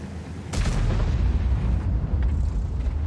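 A heavy tank cannon fires in the video game World of Tanks, a sudden deep boom followed by a rumbling low tail that lingers for a few seconds.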